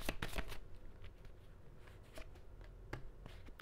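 Tarot cards being shuffled by hand at close range, a brief papery riffle of quick soft flicks and rustles, quiet and heard alone.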